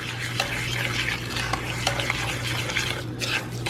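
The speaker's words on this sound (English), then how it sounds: "you're gonna mix, just mix your butter and your sugar together" Butter and sugar being mixed together in a bowl for a Kentucky Derby pie, a continuous close scraping and churning with small clinks of the utensil against the bowl over a steady low hum, no voices.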